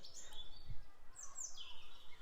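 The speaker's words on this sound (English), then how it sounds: "With robins, it's kind of a little bit more like a jumble of lots of different notes." A faint, distant European robin sings a thin, high jumble of quick notes over quiet outdoor background noise.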